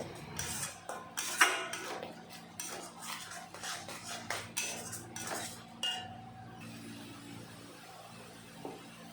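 A utensil scrapes and clinks against a pan as onions and tomatoes fry in oil, irregular stirring strokes near and fairly quiet, easing to a soft background hiss toward the end.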